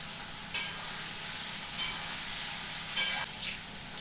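Chopped onion and tomato fry in a pan for a mutton curry, a steady close sizzle with a couple of brief louder scrapes of stirring.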